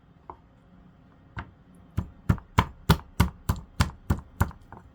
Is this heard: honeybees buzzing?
no